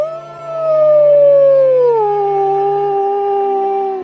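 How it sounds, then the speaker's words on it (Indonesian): A wolf lets out one long, loud howl that slides gradually downward in pitch and holds steady for about four seconds, clear and alone against a quiet background. "Itulah suara serigala."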